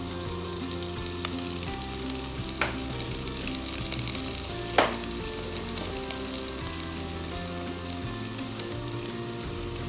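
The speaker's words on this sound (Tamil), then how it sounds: "இப்போ அதே பாட்டில் ரஃப்லி சாப்டு ஒரு பெரிய வெங்காயம் போடுறேன். கொஞ்சம் வதக்கிக்கலாம்." A large, roughly chopped onion sautés in a pot with a steady, soft frying hiss and a couple of sharp stirring clicks, under background music.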